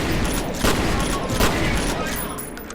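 Shotgun blasts in the shooter video game F.E.A.R. come as a dense, loud volley of shots layered over game sound, with a couple of sharper reports standing out.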